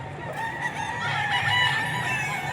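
A bullstag rooster at the Bocaue pet market crows loudly and close by, one long sustained call with a rising, strained crow, with faint market bustle behind it.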